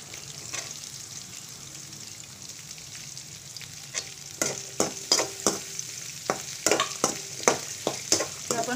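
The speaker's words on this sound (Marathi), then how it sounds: "आता आपण ह्याच्यात कांदा घालून घ्यायची." Onion sautéed in oil in a pan for bread masala, a steady close sizzle overlaid with repeated sharp scraping clacks of a spoon stirring, growing busier and louder partway through.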